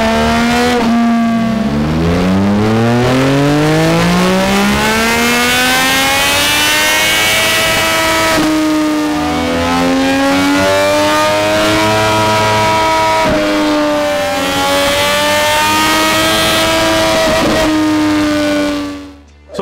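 An MV Agusta Rivale 800 motorcycle engine revs hard on a dyno, its loud tone sweeping up and down through repeated climbs and brief dips, sustained and close for the whole run before cutting off at the end.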